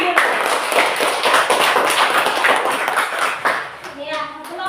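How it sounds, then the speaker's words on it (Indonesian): A classroom group of children claps hands together in a dense burst of applause that fades near the end, with voices talking over it. "Ya, tepuk tangan dulu."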